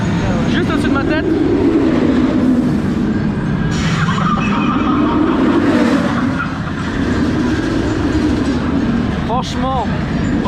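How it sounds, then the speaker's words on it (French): A train rumbles loudly past directly overhead at the Alton Towers theme park, a continuous near roar with squealing wheel tones, while people talk and call out underneath. "Et attention, il y a un train qui passe."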